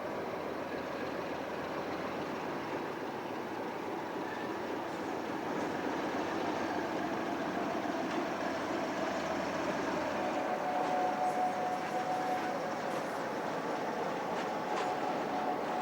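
Freight train 6T71 with a timber load pulls away from Cotton Hill, its wagons rumbling and clattering steadily at a moderate distance with a faint rising drone and no voices.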